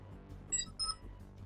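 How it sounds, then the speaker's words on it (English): A phone notification gives two short, faint electronic beeps in quick succession over quiet low background sound from a video game. "That's my phone, I apologize."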